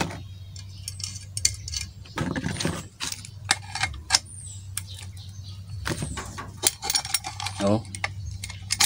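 Metal scraping, clicking and ratcheting as a stuck, heat-tightened metal nozzle is forced loose from a 3-inch chamber, in irregular close bursts of grinding and clanks over a low hum, with a person speaking briefly in between.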